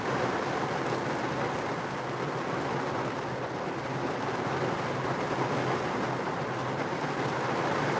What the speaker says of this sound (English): You guys hear that rain?